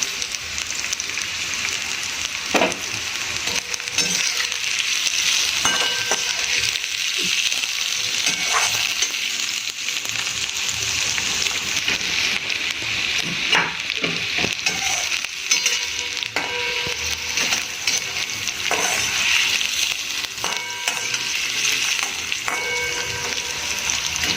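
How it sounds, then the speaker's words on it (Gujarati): Chopped carrots fry in a pan of oil for a masala spaghetti dish, giving a steady, close sizzle throughout with occasional scraping and tapping from a spoon stirring them. "ગાજરને કૂક થવામાં થોડી વાર લાગે છે, તો આપણે સૌપ્રથમ પહેલાં ગાજર એડ કરીશું આમાં"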